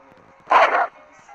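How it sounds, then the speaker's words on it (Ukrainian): A dog gives a single sharp bark, close and loud, set against a quiet background with faint low sounds before and after. "Собака."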